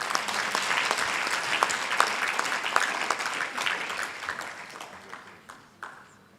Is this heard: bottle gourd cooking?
no